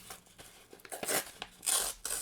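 Brown packaging paper being ripped by hand, a series of short tearing and crinkling bursts at close range, quiet overall with brief pauses between rips.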